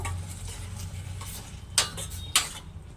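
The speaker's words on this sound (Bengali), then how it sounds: "হলুদটা দেওয়ার পর ডালটা ভালোভাবে নাড়াচাড়া করে নেব।" A spoon works through chana dal with a little turmeric in a pot, giving soft scraping and shuffling, with two sharper metallic clinks of utensil against the pot toward the end.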